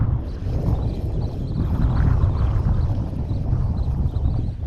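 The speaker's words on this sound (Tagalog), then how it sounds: "nagpaandar na sila ng makina" A boat engine runs out on open water, a loud, continuous low rumble mixed with wind buffeting the microphone, steady from start to finish with no speech.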